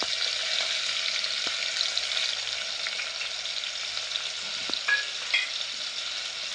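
Tomatoes frying in a pan on low heat for a crab curry, a continuous bright sizzle with occasional stirring scrapes and small clinks, close and steady.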